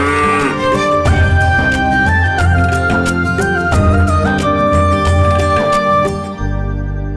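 Cattle lowing with calves in a herd being driven along, steady moos layered over continuous music, with a sudden drop at the end leaving low sustained tones.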